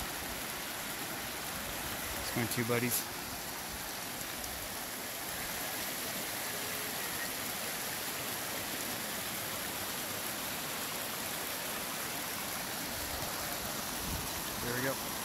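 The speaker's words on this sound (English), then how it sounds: "Really cool waterfall." Waterfall along the Pacific Crest Trail between Chester and Bald Eagle Mountain, a steady broadband roar of falling water that fills the whole clip, with someone speaking briefly over it.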